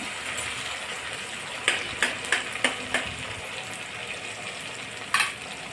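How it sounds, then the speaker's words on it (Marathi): Tomatoes sautéing in a pan for a Maharashtrian sandgechi bhaji give a soft, steady sizzle, broken by a few sharp spatula scrapes and clinks against the pan, close and alone with no talk. "आता अगदी व्यवस्थित टमाटा सुद्धा परतून घेणे"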